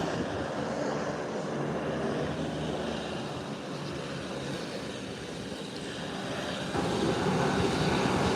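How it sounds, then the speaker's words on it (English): A Beechcraft 1900 turboprop taxis in to park at an airport, giving a continuous moderate engine drone that swells slightly toward the end. "here comes the Beechcraft 1900 coming into park"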